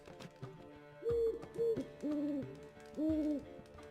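A bird hoots in The Witcher 3 video game, several steady tonal hoots with short gaps, clear and fairly close over faint background game ambience.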